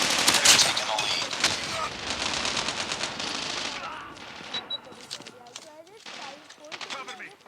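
Rapid assault rifle bursts in a first-person shooter match, loud crackling volleys in quick succession up close, with more distant gunfire trailing off and a voice speaking between shots.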